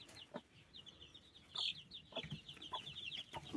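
A broody hen clucks softly near her eleven newly hatched chicks, whose thin, high peeps repeat steadily throughout, with a few louder clucks and rustles toward the end.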